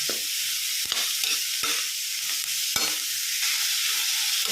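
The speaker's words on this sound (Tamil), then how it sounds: "பாருங்க, நல்லா இந்த அளவுக்கு வதக்கணும்." Beetroot being sautéed in a pan, a continuous close sizzle broken by a few sharp stirring clacks of a spoon against the pan, with no voices.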